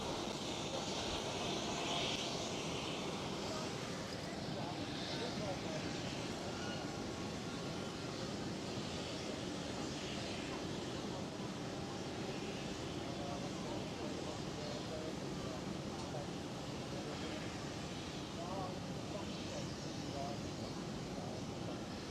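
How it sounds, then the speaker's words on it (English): A KLM Cityhopper Embraer E175 sits lined up on the runway at Amsterdam Schiphol, its engines a continuous broadband rumble heard from a distance, steady over the full stretch and under faint background noise. "the next KLM Cityhopper is already lined up on the runway, E175"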